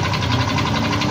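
A Yamaha Mio i 125 scooter engine runs with a noisy mechanical clatter, a steady close rattling idle with a fast even pulse throughout the short stretch.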